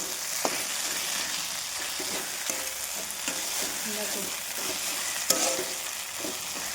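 Salted, squeezed bitter greens sizzle steadily in a pan, broken by scattered scrapes and clinks of a stirring utensil and one sharp metallic tap near the end; no voices.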